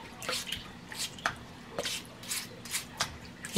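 Potatoes scrubbed with a small brush after washing, a series of wet, irregular scratchy brush strokes and drips, close and fairly quiet, with no talk.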